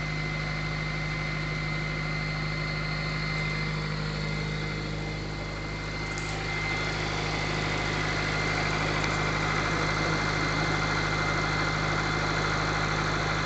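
A 1995 Acura Integra GSR engine idles steadily on a very cold start, a constant close mechanical hum and buzz with faint ticking, running alone without any voices throughout.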